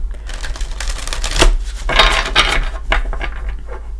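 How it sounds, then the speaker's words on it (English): Tarot cards being reshuffled by hand, a run of quick papery riffles and soft slaps, close and fairly loud, with no talking. "Just like to reshuffle with you here."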